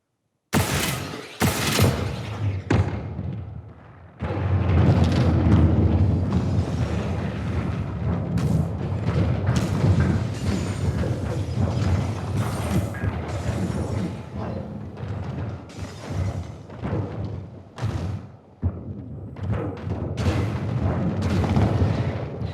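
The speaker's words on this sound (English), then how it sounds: "this is going to be all the weapon sounds as well as some building destruction on top of that" Crackdown 3 weapons fire in heavy, booming bursts as buildings collapse, with dense explosions, rapid gunfire and rumbling destruction running loud and nearly continuous apart from a few brief gaps.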